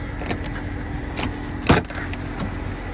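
A 2020 Ford Mustang EcoBoost with a 6-speed manual and dual exhaust idles steadily nearby, with one brief sharper burst from the exhaust about midway through.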